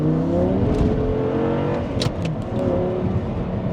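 An all-wheel-drive sports car engine revs hard in second gear and climbs in pitch as it accelerates, loud and close, with a brief shift-like break midway.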